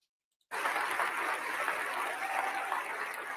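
A conference audience claps together after a short silence, a dense, steady wash of applause that continues at an even level to the end.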